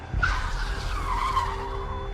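A truck's tyres skid and squeal as it brakes to a halt, a sustained screeching whine that starts sharply, wavers and slowly fades over a low rumble.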